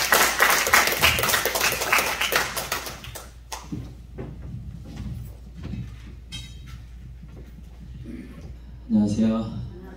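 A church congregation applauding to welcome a pastor, dense clapping for about three seconds that quickly dies away, followed by footsteps, shuffling and the start of talk.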